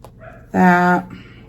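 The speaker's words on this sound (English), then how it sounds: "Sorry, my dog's barking." A single loud, close bark with a harmonic, slightly whiny tone, lasting about half a second amid otherwise quiet surroundings.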